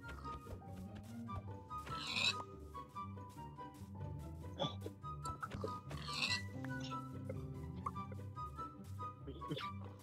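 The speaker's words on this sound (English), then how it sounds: "Oh, I just found a couple of pigs." Pigs in the Minecraft video game give short, repeated oinks and grunts over game background music, several calls spread through the stretch at moderate loudness, with no talking.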